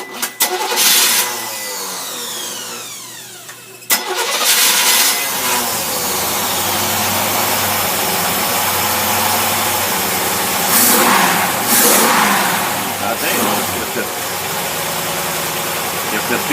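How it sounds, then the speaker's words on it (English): An engine fed by an Autolite two-barrel carburetor cranks and catches a few seconds in. It then settles into a loud, steady idle up close, with a couple of clattering bursts along the way. "We're going to put the fuel to it. See if it'll start up."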